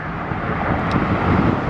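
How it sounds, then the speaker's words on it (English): A Canadian Regional Jet 900 departing from Atlanta airport, a loud, steady broadband jet roar with wind buffeting the microphone and no voices. "There it is. Canadian Regional Jet. I'd say 900."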